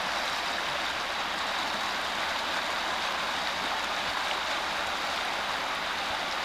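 Flowing water of Rock Creek in Montana, running high, gives a steady, even broadband rush that continues unbroken and fairly close, with no voices.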